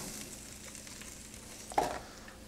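Carrots, celery and onion in coconut oil give off a soft, steady sizzle in a pan, quiet throughout, with one brief louder hiss or clink near the end.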